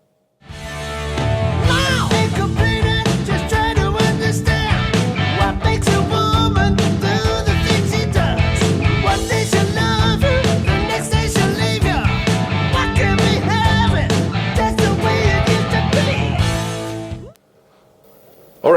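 An electric guitar plays the verse rhythm of a rock song, mostly power chords with bluesy rhythmic figures, loud and continuous with a full backing sound before stopping abruptly near the end.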